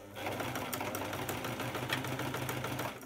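Sewing machine back-stitching fabric for a DIY cot bumper, a steady rapid mechanical whirr with fast needle chatter, close and continuous before cutting off at the end.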